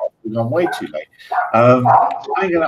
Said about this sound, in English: I apologise about the barking